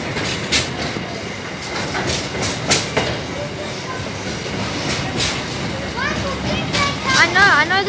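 A train rolls past on the railway close by, with steady rumbling wheels, rhythmic clicking over rail joints and rising squeals near the end, loud and continuous throughout.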